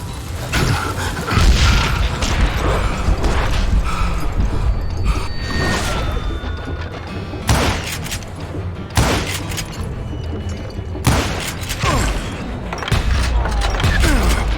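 Gunshots in the video game Call of Juarez Gunslinger, loud booming shots repeating in irregular bursts among heavy action sounds, with occasional shouting.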